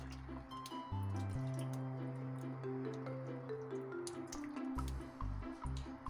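Cream at 30% fat is poured into pork tenderloin stewing over medium heat with rosemary, giving soft glugging, dripping liquid sounds over a steady low simmer, close by and without speech.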